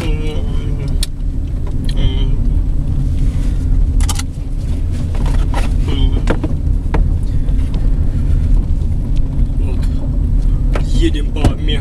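Interior of a 2010 Ford Focus 1.4 with an 80-horsepower manual gearbox driving over a badly broken road, a loud constant low rumble of engine and tyres with scattered knocks and thumps from the uneven surface, someone talking over it.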